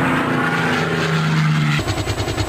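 A helicopter roars loudly and close by, first as a dense steady whine, then shifting into a pulsing rotor chop in the final second.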